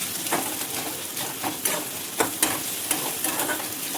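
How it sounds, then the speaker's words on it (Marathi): Chopped onion sizzles in hot oil in a pan for egg bhurji, with steady frying hiss broken by repeated scraping stirs of a spatula at close range. "कांदा टाकायचा व्यवस्थित परतून घ्यायचं जरा"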